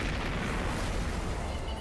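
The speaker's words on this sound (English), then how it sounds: "Could a fuel tank explosion bring down a plane?" Fuel tank explosion test on a model aircraft tank: a continuous loud, dense roar of blast noise filling the whole short stretch without letting up, no voices.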